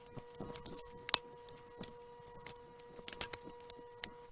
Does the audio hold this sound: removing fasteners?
yes